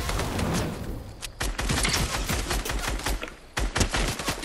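Rapid gunfire bursts crackle in a Fortnite match, a dense series of sharp close shots in quick volleys with a short pause before more firing resumes.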